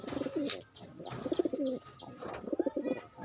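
A pet pigeon coos at its nest where it has laid eggs, giving three separate bursts of throaty, rhythmic cooing, close and fairly loud, with faint chirps between them.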